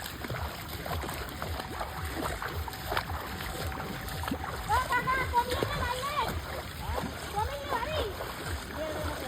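Someone wades through floodwater covering a road, with sloshing and irregular splashes close by over a steady watery background. A voice talks throughout.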